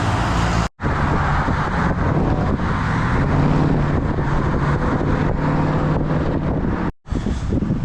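Road traffic rolls past on a street in Belmar, New Jersey, during a thunderstorm: a loud, steady roar of passing cars mixed with heavy wind buffeting the microphone, broken by two brief dropouts.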